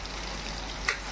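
Spice tempering sizzles in hot oil with cooked tomato for a village-style fish curry, a soft, steady frying crackle heard up close with one brief sharper spit near the end.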